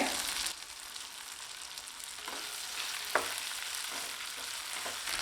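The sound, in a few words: karpooravalli leaves and tomato sautéing in a pan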